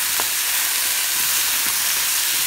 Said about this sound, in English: until the onion fries up and becomes nice and golden brown